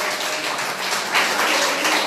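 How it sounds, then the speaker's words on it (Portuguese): A church congregation applauding loudly for Jesus, dense continuous clapping filling the room with a broad, even roar and no talk over it. "Dá um aplauso forte para Jesus"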